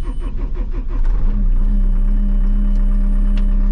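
Tire teleskid skid steer engine chugging unevenly before settling into a loud, steady running drone with a strong low rumble, close by with no talk.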